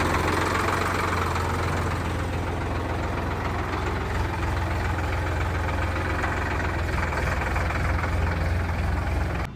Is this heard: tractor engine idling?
yes